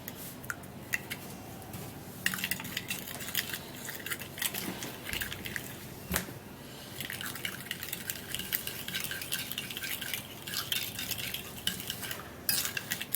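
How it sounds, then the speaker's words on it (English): Homemade black hair cream is mixed in a bowl, giving continuous close, soft scraping and squishing stir sounds with irregular clicks of the utensil against the bowl. "it's going to take a little while for this to mix, but you have to continue mixing it."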